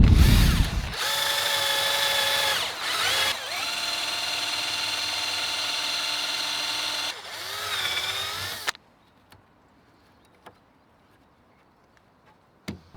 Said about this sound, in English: I think using a large drill bit is the best one for me.